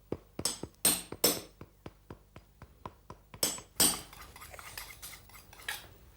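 In a bootmaker's workshop, a hammer taps on leather shoe parts to set a glued join. Crisp, close taps come in a quick, uneven series, some louder than others.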